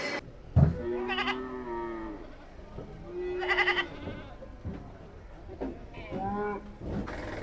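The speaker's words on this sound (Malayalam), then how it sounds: "ഇവിടെ ആടുകളൊക്കെ വന്നിട്ടുണ്ട്" Goats tethered for sale at the Kollakadavu livestock market call out in three loud, drawn-out bleats across the scene, with calves nearby and faint voices talking in the background.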